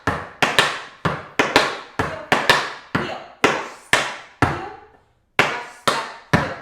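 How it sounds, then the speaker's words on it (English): Tap shoes striking the floor in a quick rhythmic pattern of flap heels, crisp percussive taps in pairs and clusters, ending with a solid stamp after a short pause, close and alone. "4 flap heels, weird open flap heel pattern, stamp."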